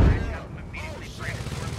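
Heavy gunfire in the Squad video game, a loud burst of shots at the start followed by rumbling combat noise, with voices talking over it.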